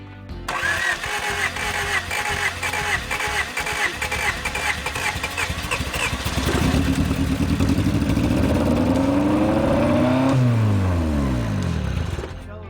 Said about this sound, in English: we got the car to crank, and we're both really excited about that